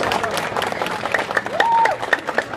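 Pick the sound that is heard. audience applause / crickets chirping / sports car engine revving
audience applause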